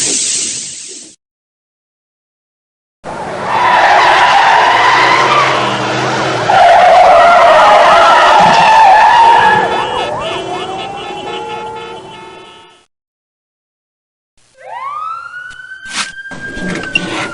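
A police car chase plays out in the 1995 Spider-Man interactive CD-ROM comic book game: a loud burst, then a sudden gap of silence, then roaring engines and skidding tyres, then another silence before rising and falling siren sweeps near the end.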